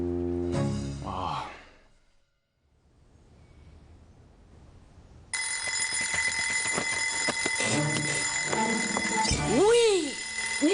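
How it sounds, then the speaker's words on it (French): An alarm clock starts ringing halfway through and keeps up a loud, continuous metallic jangle to the end. A voice briefly calls out over it near the close, after a short burst of sound and a quiet stretch at the start. "Éteins-moi ce réveil!"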